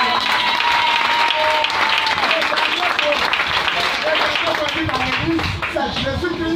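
A church congregation applauds loudly and continuously, dense clapping filling the space with voices mixed in throughout.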